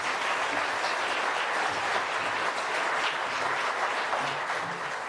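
A large audience at an architecture awards ceremony claps in sustained, dense applause that holds steady throughout with no talking.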